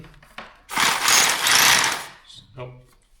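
DeWalt D25003K rotary hammer, just repaired and set to hammer-only mode, gives a loud buzzing, rattling burst lasting about one and a half seconds, with brief mechanical clicks and light speech before and after.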